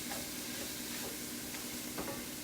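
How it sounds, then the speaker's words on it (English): Beet tops saute in a pan with a constant, hissing sizzle, close and even, with a few faint stirring scrapes through the noise. "All right, I'm gonna just saute this."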